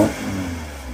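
Car at a car-spotting meet in Portrush: a short, loud engine rev with a steady, rumbling drone that eases off slightly, close by with no voices.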